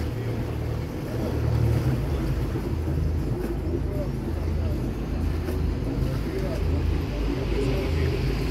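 A catamaran motor runs as the boat turns alongside a pier, a steady low drone mixed with wind buffeting and lapping water while someone talks.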